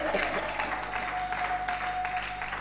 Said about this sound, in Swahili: Mpe Yesu makofi na vigelegele.